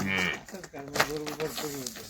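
A cow offered for sale on an Indian farm lets out a drawn-out moo close to the recorder, with some human voice faintly mixed in.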